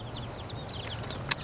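Backyard hens with young chicks nearby make soft clucks and faint high chirps over a steady low background hum, ending in one brief louder squawk.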